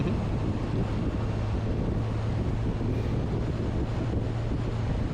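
Constant roaring wind noise buffeting the microphone while riding a Kawasaki Ninja 1000SX motorcycle on a road, with a low engine drone steady underneath.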